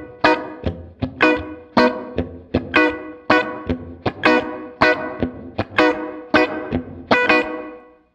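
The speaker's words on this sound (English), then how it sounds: "You can hear the reverb gets a little more prominent as that control gets up" An electric guitar played through a Fender Marine Layer reverb pedal with its pre-delay being raised, rhythmic strummed chords and single hits in a steady pattern, each ringing out with a reverberant tail.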